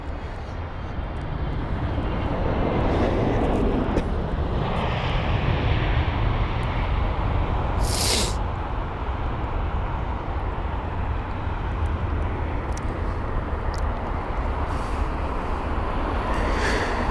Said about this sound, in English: we'll give you the info on that arriving aircraft, or aircraft that had already arrived. That was flight number NH211 for the Al Nippon Airlines